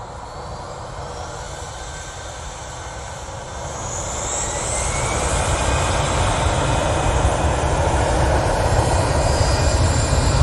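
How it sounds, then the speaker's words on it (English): An EasyJet airliner takes off at Manchester Airport bound for Paris, its jet engines a loud, broad roar that builds steadily at mid-distance as it accelerates, with no voices over it. "So going off to Paris Charles de Gaulle Airport, and they've obviously been given their takeoff clearance."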